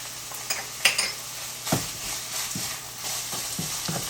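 Rice cakes and vegetables being stir-fried in a pan, with a steady close sizzle, scraping stirs and a few sharp utensil clinks against the pan.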